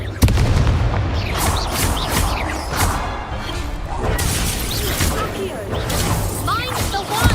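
Confringo, an explosive fire spell cast in the Hogwarts Legacy video game, bursting amid a dense, loud stretch of game combat with booms and crashes layered under talking voices.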